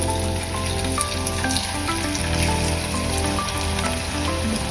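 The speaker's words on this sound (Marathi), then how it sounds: "असे हे पकोडे तळून घ्यायचे आहे।" Sprouts pakoras deep-fry in a kadhai of hot oil, giving a steady, dense crackling sizzle that runs unbroken and close throughout.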